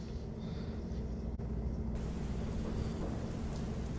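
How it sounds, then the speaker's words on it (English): Trickling rain falls in a steady, soft wash with a low rumble of thunder underneath, distant and constant, with no voices. "the sound of that trickling rain, it really does set a mood"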